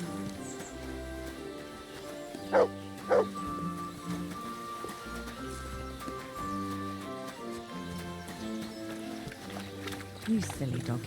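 Dog barking in the Kingdom Come Deliverance II video game, two sharp close barks early on and another later, over a steady bed of music and game ambience.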